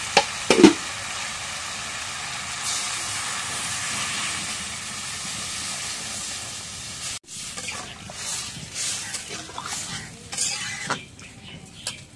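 Water poured into a sautéed Bengali fish curry sets off a broad, steady hiss of steam, with clattering stirring sounds and some sputtering later on.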